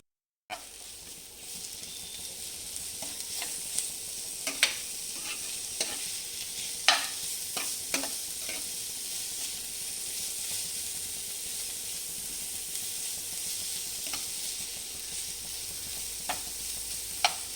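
Crushed garlic and ginger sauté in a pan of hot oil with a steady low sizzle. Occasional sharp scrapes and clicks from stirring break through the hiss.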